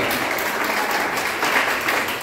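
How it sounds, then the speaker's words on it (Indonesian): A church congregation applauds during an Indonesian sermon, a dense, steady wash of many hands clapping throughout without a break. "Berikan tepuk tangan bagi Tuhan."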